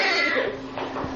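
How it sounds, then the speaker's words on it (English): A distressed cat giving a short, strained yowl lasting about a second, close and fairly loud, with noisy room sound behind it. "No, that's not the fun sound of a cat."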